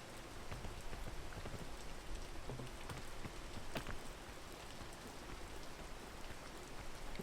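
Steady rain pours down in the PEAK video game, a dense continuous hiss of drops on surfaces with no breaks, filling the whole scene without any voices.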